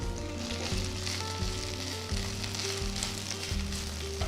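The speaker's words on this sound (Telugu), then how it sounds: "ఒక ప్యాన్లో ఒక టీ స్పూన్ నువ్వుల నూనె వేస్తున్నాను ఇందులో ఒక బౌల్ అంత ఫ్రెష్ పుదీనా ఆకులు" Fresh mint leaves fry in sesame oil in a pan with a dense, even hiss, while a spoon scrapes and taps the pan in a steady rhythm; no talking.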